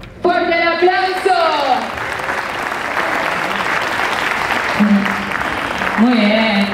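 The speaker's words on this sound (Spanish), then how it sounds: "¡Fuerte el aplauso!" A crowd applauds loudly and steadily for competitors at a speaker-battle semifinal event, a sustained wash of clapping with a host's voice calling out over it at the start and end.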